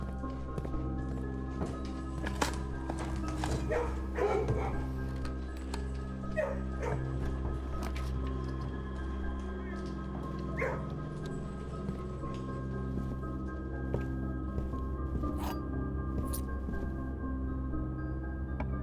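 Dogs barking, yipping and whimpering in a kennel in the video game Blue Prince, scattered short barks over a steady low hum, moderately distant and with no talk.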